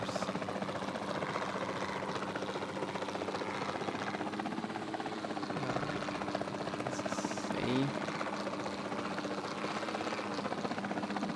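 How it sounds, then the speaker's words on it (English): A helicopter in the video game Jurassic World Evolution 2 drones steadily with a constant rotor buzz throughout, moderately loud, with a brief faint chirp partway through. "The helicopter might be really loud."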